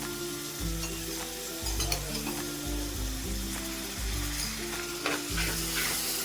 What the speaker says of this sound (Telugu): ఇందులోనే ఇప్పుడు పుదీనా వేసుకోవాలి అలాగే ఒక గుప్పెడు కొత్తిమీర వేసుకోవాలి వేసుకొని ఒకసారి బాగా వేయించుకుందాం